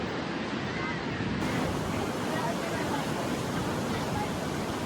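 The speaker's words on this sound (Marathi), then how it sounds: "एक नंबर लाटा येतात" Sea waves roll in steadily on a beach on the Konkan coast, making a loud, continuous surf roar blended with wind buffeting the microphone.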